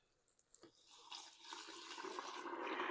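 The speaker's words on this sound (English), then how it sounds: "We are going to add 1 gallon of purified drinking water." Purified drinking water is poured from a gallon jug onto 2.5 pounds of raisins for homemade wine. The splash is faint at first, then builds into a steady gurgling pour that grows louder, with no talking.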